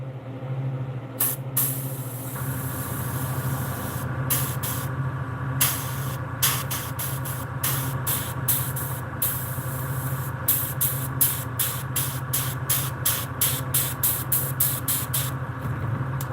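An airbrush spraying paint onto a striped bass hisses steadily with a compressor hum beneath, interrupted by a rapid series of short sputtering bursts and clicks as the spray stops and starts.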